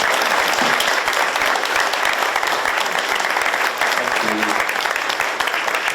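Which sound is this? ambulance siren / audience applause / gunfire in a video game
audience applause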